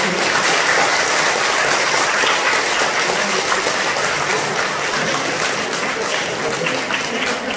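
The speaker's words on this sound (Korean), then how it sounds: "박수." Sustained applause fills a Buddhist temple assembly held in a temple lobby, a steady dense wash of many hands clapping at even loudness throughout, with no speech over it.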